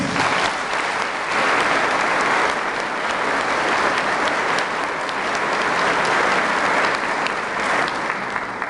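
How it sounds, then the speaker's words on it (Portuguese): Steady, dense applause from a church festival audience at a Santo André feast fills the space evenly without pause, loud and close for several seconds. "nós queremos acolher a irmã Márcia com uma salva de palmas"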